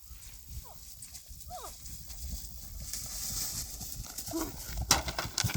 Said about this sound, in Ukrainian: Зараз будуть піднімати в галоп і їхати на бар'єр.